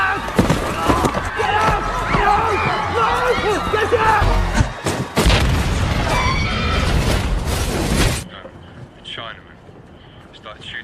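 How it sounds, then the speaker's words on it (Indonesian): A laptop bomb bursts in an airport film scene, a loud dense roar with crashing debris and a deep boom lasting several seconds, cut off abruptly before a quieter tail, all under a busy film soundtrack. "Polisi berhasil mengambil laptop Ian di bandara dan melemparnya dari keramaian sebelum meledak."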